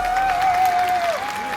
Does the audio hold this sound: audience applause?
yes